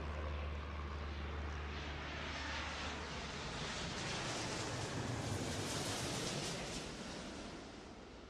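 A steady, broad engine roar from an aircraft in the airport video game Airport Madness World Edition plays on without a break for several seconds, with no speech.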